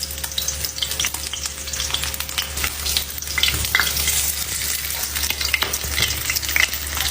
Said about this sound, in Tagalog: pinirito ko na rin tong pork chop